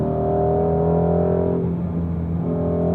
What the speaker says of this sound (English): that sound and the engine and the way it pulls all the way to redline